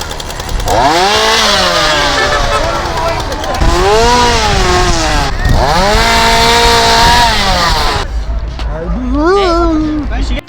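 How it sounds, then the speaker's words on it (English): A loud chainsaw-like engine revs up and down in long, sweeping waves, rising and falling repeatedly, close and dominant throughout. "Michael Helborn decides to go nuts with the chainsaw."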